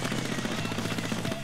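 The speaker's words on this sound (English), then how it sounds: "You get to see my own airstrike right there" Rapid rattling explosions from an airstrike in the Splatoon turf war game on Wii U, a dense continuous burst of gunfire-like blasts lasting about a second and a half, loud with no voices.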